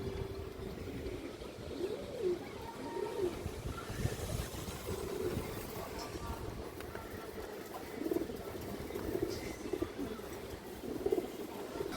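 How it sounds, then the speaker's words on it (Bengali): Pigeons coo in low, rolling phrases at intervals, fairly faint against a steady background hiss, the calls recurring every second or two. "খুব সুন্দর কবুতর।"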